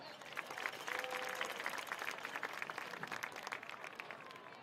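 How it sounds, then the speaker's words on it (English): A high school football crowd claps for school officials introduced before a boys varsity game against James M Bennett, a soft, fairly distant scatter of applause holding steady throughout. "let's get a round of applause"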